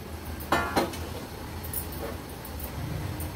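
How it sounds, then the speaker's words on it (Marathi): A metal lid lifted off a pan of steamed rava dhokla in a home kitchen, two quick clinks close by, then a quiet background hiss. "आता ह्याच्यावरचं झाकण काढून घेऊया"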